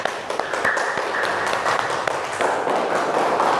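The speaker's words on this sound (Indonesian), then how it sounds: "Beri tepuk tangan untuk Mas Dolias." A classroom audience applauds a participant after a group presentation, producing a moderate, scattered patter of claps with some sharper individual hits throughout.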